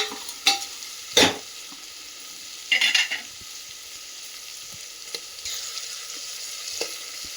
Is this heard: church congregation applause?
no